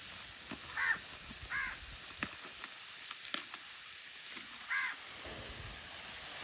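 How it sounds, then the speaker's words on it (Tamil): A few short caws from a crow, somewhat distant, break through a constant sizzling hiss of cooking in a home kitchen. "காக்கா"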